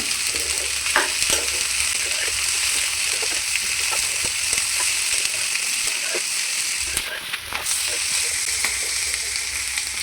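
Chopped ivy gourd sizzling in hot tempering oil in a pan while being stirred, a steady close frying hiss with occasional scrapes and clicks, continuing throughout.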